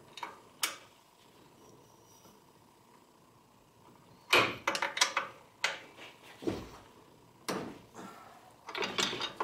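A 17mm wrench works loose the nut on a Subaru power steering pump pulley, giving a few sharp metallic clicks and clunks, then a cluster of ratcheting and tool knocks close by in a quiet garage.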